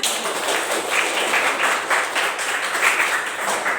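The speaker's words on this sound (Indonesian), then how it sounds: "tepuk tangan buat kita" A group of students applauds in a gym during a floor gymnastics class, a steady, even wash of many hands clapping close by that holds for the whole stretch.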